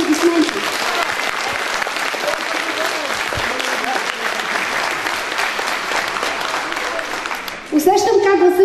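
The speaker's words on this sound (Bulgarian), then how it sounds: "Моля за вашите аплодисменти!" Sustained, dense audience applause at a Bulgarian private high school graduation for twelfth-grade students, loud and steady for most of its length, then a voice begins speaking near the end.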